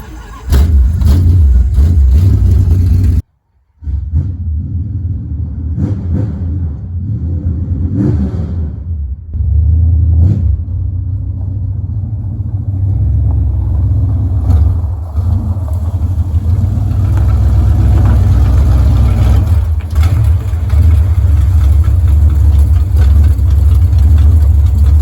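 A 1972 Dodge Dart V8 cranks and catches, then idles with a loud, heavy rumble and repeated revs rising and falling, with a brief dropout just after it fires.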